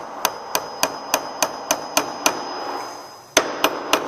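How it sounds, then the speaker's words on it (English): Hammer striking pieces of a wooden CD/DVD holder being assembled, about a dozen sharp, evenly spaced taps close by, a brief pause, then a louder blow and a few more taps. "then hammer, hammer, hammer, hammer when I say hammer time"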